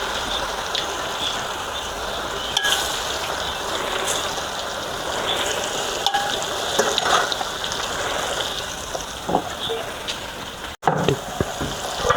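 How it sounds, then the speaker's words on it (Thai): A generous amount of oil heats and bubbles in a pan before taro is fried, giving a continuous hissing, crackling fizz with a few louder pops and clatters near the end. "ให้น้ำมันเดือดก่อน"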